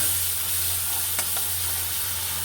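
A mustard, green chili and cumin paste sizzles steadily in a pan for a lobster-gourd and prawn curry, a continuous frying hiss with one faint scrape of stirring partway through and no talking.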